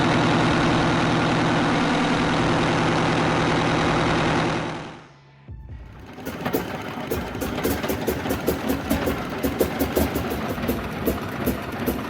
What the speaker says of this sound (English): the Detroit 8V92TA erupted into life, filling the harbor with raw sound